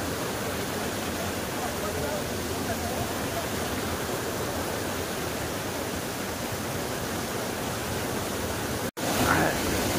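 Dudhsagar Waterfall in Goa roars as a steady, dense wash of broadband noise, loud and unbroken, with a brief dropout near the end.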